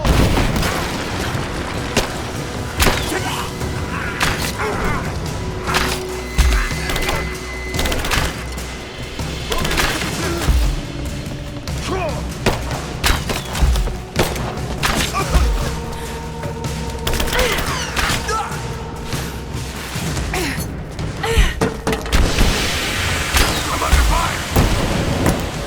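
Gunfire in Rise of the Tomb Raider keeps up the whole time: dense, loud bursts of shots and booming impacts with heavy rumble, and brief voices are heard now and then amid the firefight.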